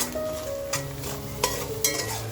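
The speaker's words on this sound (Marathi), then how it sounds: "मग आपला मसाला असा खमंग परतवून झालेला आहे" Masala for prawn biryani sautés in a pan, giving a continuous close sizzle with a few distinct scraping stirs of a spatula against the metal.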